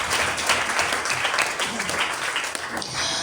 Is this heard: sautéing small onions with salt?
no